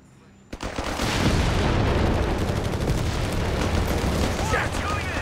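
Heavy battlefield gunfire in Company of Heroes 3 during the Italian campaign, a sudden blast giving way to a dense, continuous roar of shooting and explosions, loud and unbroken.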